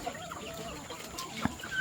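Hens on a small backyard farm cluck in soft, scattered calls close by, with one sharper squawk near the end over a steady background hum.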